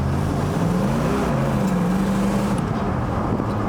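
A 1984 Chevrolet Monte Carlo SS, revived after sitting for 22 years, pulls ahead with a steady, loud engine drone whose pitch rises and falls as it accelerates, heard from inside the car with no talk.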